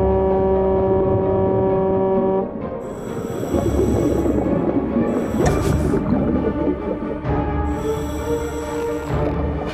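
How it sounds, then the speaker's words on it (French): A deep, loud foghorn in a cartoon blares in long sustained blasts, with a rumbling, churning background between the tones. "La corne de brume."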